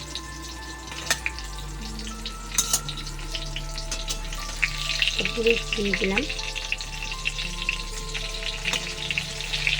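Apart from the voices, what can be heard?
pointed gourd (potol) frying in oil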